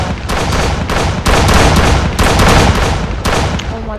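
Loud, dense gunfire from a gun in the Roblox video game played on an iPad, with rapid shots in continuous bursts and booming impacts throughout.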